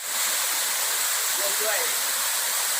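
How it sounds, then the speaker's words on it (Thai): Phu Din So waterfall in Khun Han district: a steady, loud rushing roar of falling water fills the whole clip without a break, with a faint voice briefly heard over it. "ตอนนี้พาเจ้าเองมาเที่ยวน้ำตกภูดินสอ อำเภอขุนหาร"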